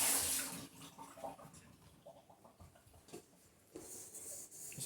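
Tap water runs while a bowl is washed in a home kitchen during pizza dough making, a soft, uneven splashing stream with a louder gush at the start and near the end.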